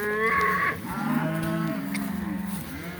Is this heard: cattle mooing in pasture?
yes